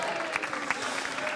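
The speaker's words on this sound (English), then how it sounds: "A round of applause from the fans" Fans at a tenpin bowling event applaud with steady clapping that stays at a fairly even level, with a few sharper individual claps standing out above the wash.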